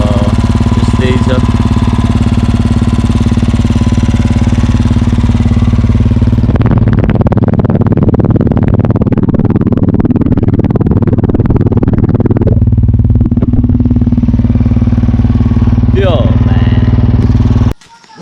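A motorcycle engine idles steadily nearby, a loud continuous low hum and throb that swells into a rougher rumble midway before settling back to idle, with no talk.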